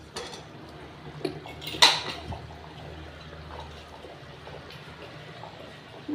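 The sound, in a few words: lid placed on pressure cooker with mutton and potatoes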